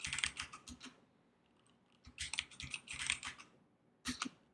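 Bursts of quick key presses on a computer keyboard while a password is entered, close and crisp, in three clusters separated by short pauses.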